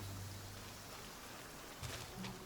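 Rain in Genshin Impact: a faint, steady patter of falling rain with a soft hiss throughout, alone and without talk.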